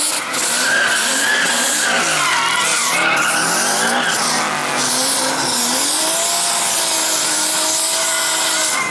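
A car does a loud burnout at a drift event, tires squealing and skidding in a sustained, wavering shriek over the roaring engine, close and continuous throughout.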